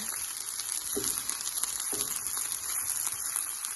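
SPAM fried rice stirred in a hot pan, a steady hissing sizzle with a couple of soft scraping strokes, close and alone with no voices.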